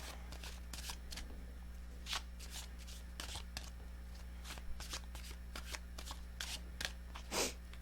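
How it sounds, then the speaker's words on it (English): Tarot cards being shuffled close by in several quick riffling bursts, with brief pauses between them and a steady low hum underneath. "Let's do 3 shuffles."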